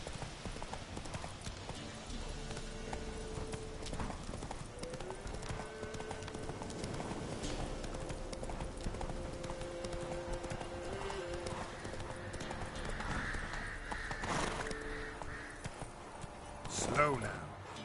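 Horse hoofbeats from the Witcher 3 video game plod steadily at a walking pace, faint and low in level, with a continuous ambient game soundscape running underneath and a brief louder accent near the end.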